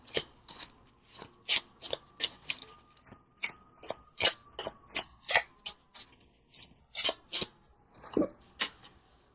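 Tarot cards from the Tarot of a Moon Garden deck are shuffled and drawn, giving a close series of crisp riffling snaps and slaps in an uneven rhythm, about twenty sharp bursts with brief gaps.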